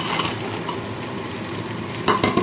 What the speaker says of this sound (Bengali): এবার আমি ভেজে রাখা বড়াগুলো এর মধ্যে দিয়ে দেবো